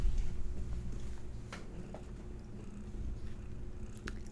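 A house cat named Hattie purrs close up, a steady low rumbling drone that continues without a break, with a few faint ticks and rustles over it.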